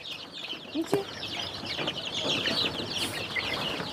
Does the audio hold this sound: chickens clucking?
yes